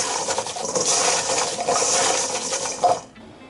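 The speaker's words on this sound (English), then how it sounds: "So the water is boiling now." A pot of water boiling on the stove to cook edamame, giving a steady loud bubbling hiss with small pops and splashes, alone without talk, fading near the end.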